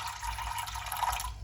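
Water poured into a cooking pot on a stove while making aloo tikki, a steady splashing stream filling the pot for a brief moment, close and fairly loud.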